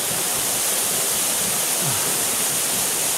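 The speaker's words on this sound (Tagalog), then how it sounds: "Abuab Falls, San Mateo." Abuab Falls in San Mateo roars as a loud, steady broadband rush of falling water, constant and close with no talk over it.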